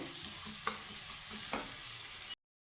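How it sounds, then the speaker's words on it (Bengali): Chopped carrot and onion fry in a pan for a breakfast daliya, giving a steady close sizzle with a couple of soft stirring scrapes before it cuts off abruptly near the end. "গাজরের সাথে পেঁয়াজটা একটু ভেজে নেব"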